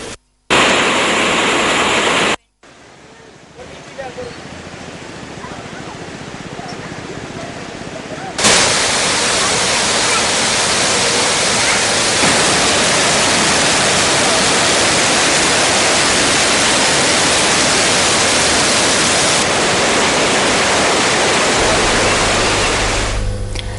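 Water from the opened spill gates of the Kaudulla reservoir rushes in a loud, steady roar of broadband noise that continues unbroken for over twenty seconds after a couple of abrupt cuts at the start.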